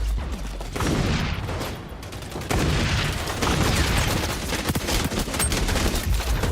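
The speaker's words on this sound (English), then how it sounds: "Grenade!" A grenade blast and heavy gunfire in the shooter game XDefiant roar in dense, continuous bursts, loud and close, with rapid rattling volleys piling on each other and no talk.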